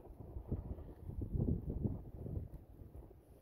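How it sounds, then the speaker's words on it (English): Strong gusty wind buffets an outdoor yard, rumbling steadily in low, blustery surges that swell and fade without letup. "The wind was crazy,"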